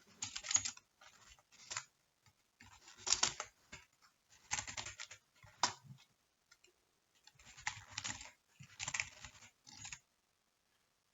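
Fingers typing code on a computer keyboard in short, quiet bursts of rapid key clicks separated by pauses, close and alone with no talk.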